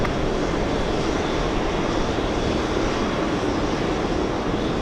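A Cathay Pacific Boeing 777 jet takes off at JFK airport, its engines making a steady, loud, broad roar that holds evenly throughout with no voices over it.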